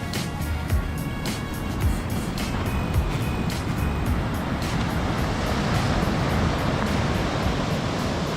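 Surf washing onto the beach at a resort in Mahabalipuram on the Chennai coast, a steady broadband roar that stays loud and continuous throughout, with no distinct breaks between waves.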